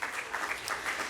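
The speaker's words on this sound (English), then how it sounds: "Let's give her a round of applause." A crowd claps together in a brief burst of applause, steady and fairly close, with no voices over it.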